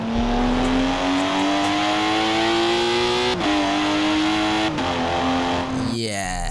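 In Forza Horizon 4, a Lotus 311 engine drones loudly and steadily while the car accelerates, pitch rising slowly with a couple of short breaks for gear shifts.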